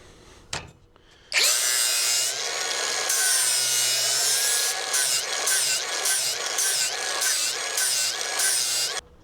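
A hand file sharpening a lawn mower blade, with steady, harsh metallic rasping strokes repeated close up and loud after a brief knock at the start, no one talking.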